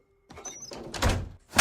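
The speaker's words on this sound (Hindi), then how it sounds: "मैं अंदर ही रहूंगी दरवाजा बंद करके" A door being closed inside a house in a dubbed South Indian movie scene: a soft creak and shuffle, then a firm thud of the door shutting and a final louder knock, close and without talk.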